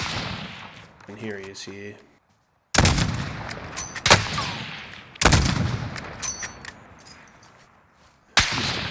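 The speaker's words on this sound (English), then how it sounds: "Just a couple of pretty easy snipes there" Sharp, loud sniper rifle shots ring out in Call of Duty Modern Warfare, three or four separate cracks with echoing tails, spaced a second or two apart, with someone briefly talking before the first shot.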